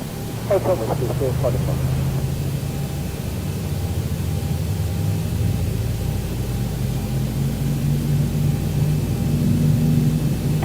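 Jet engine number 2 starting in X-Plane 12 with the Zibo mod: a steady, loud whooshing roar with a low tone that slowly rises as the engine spools up, under cockpit talk.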